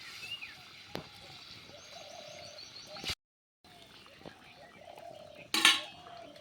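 Fried pona fish pieces dropped one by one into a simmering fish curry pot in a village kitchen. A few faint clinks come before one louder metallic clatter, with birds calling softly in the background.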